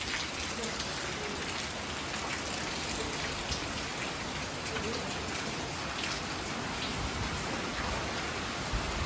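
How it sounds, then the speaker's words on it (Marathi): Steady monsoon rain pours outdoors at a farm, a dense, even hiss of drops that holds constant throughout, with no talking over it. "पाऊस."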